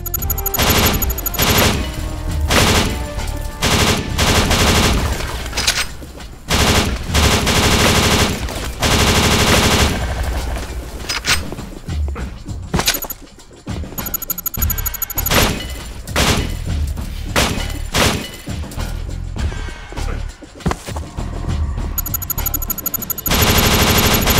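Rapid machine-gun bursts and heavy gunfire from the shooter game Kill Switch, loud and close, come in repeated volleys with brief pauses, mixed with impacts and shattering debris.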